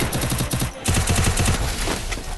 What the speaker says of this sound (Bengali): স্নাইপার আদি আজকাল দেখি হেডশট দিয়ে হয়ে গেছে